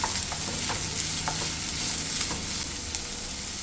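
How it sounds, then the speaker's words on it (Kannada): Capsicum, carrot and onion sautéing in a pan, a steady close sizzle with occasional scrape and clink of a spatula stirring the vegetables, no voices. "ಕ್ಯಾಪ್ಸಿಕಮ್, ಕ್ಯಾರೆಟು ಮತ್ತು ಈರುಳ್ಳಿ ಇಷ್ಟು ಹಾಕಿ ಸ್ವಲ್ಪ ಒಂದು 2 ನಿಮಿಷ ಬಾಡಿಸ್ಕೊಳ್ಳೋಣ ಅಷ್ಟೇ"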